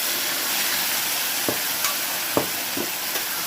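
Vegetable curry of brinjal and broad beans tipped into hot oil with ginger-garlic paste, giving a steady close sizzle and frying hiss with a few sharp clicks of stirring, no voices.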